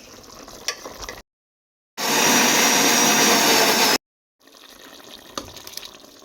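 Cooked onions and tomatoes for a grilled okra and oxtail sauce whir in a blender in one loud, steady two-second burst, with quieter kitchen clatter before and after.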